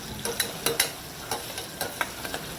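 Spices sizzle as they are tempered in oil inside a pressure cooker with cooked onion, while a spoon stirs and scrapes. Sharp scraping clicks arrive in an irregular rhythm over a continuous close frying hiss.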